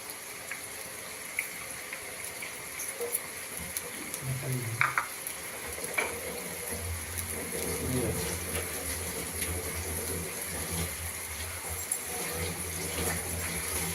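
Chopped shallots frying in a pan until brown for a black-chicken (karinkozhi) medicinal dish, a steady low sizzle with occasional scraping stirs, fairly quiet throughout.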